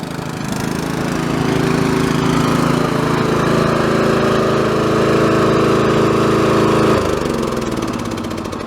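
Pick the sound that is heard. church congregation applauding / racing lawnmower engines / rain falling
racing lawnmower engines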